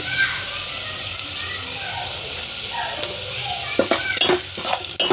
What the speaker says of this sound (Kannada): ಈರುಳ್ಳಿ ಫ್ರೈ ಆಗಲಿ, ಸ್ವಲ್ಪ ಬಾಡಲಿ ಚೆನ್ನಾಗಿ ಅಂತ ಸ್ವಲ್ಪ ಉಪ್ಪು ಹಾಕ್ತಾಯಿದ್ದೀನಿ